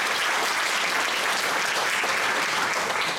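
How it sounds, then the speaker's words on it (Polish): Dense, steady applause from an audience honouring seniors at a 15th-anniversary celebration in Siedlce, Poland, filling the room evenly without pause and with no voices over it. "Gromkie brawa, szanowni państwo, dla naszych seniorów."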